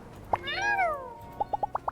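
A cat in the video game My Time at Sandrock lets out one clear, drawn-out meow, followed by a short run of soft plopping taps, close and alone without talk.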